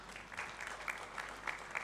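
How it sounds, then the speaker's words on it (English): Audience clapping at a national health care quality improvement conference, a steady, moderately distant round of applause from a seated crowd lasting about two seconds. "I want to request us that we give him a more louder hand clap."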